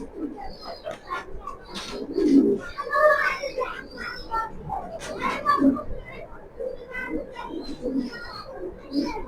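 Pigeons kept in pairs with their young coo in soft, repeated throaty bursts at close range, mixed with someone talking nearby.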